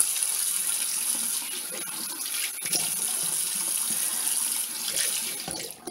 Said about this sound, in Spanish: estoy aclarándome con agua